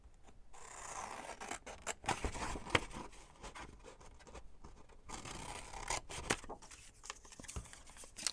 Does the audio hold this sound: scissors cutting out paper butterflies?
yes